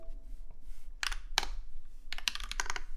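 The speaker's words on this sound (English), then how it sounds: "Now this is gonna be a better typing test." Typing test on a Satisfaction 75 R2 mechanical keyboard, with bursts of crisp key clicks and clacks in quick clusters, close and moderately loud against a low background hum.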